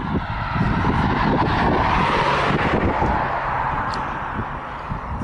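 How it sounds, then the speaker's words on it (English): Steady road traffic with cars passing by near a roadside coal breaker in Schuylkill County, a continuous broadband rumble and tire hiss swelling and easing as vehicles go by, fairly loud and without talk. "A lot of traffic today, I'm surprised."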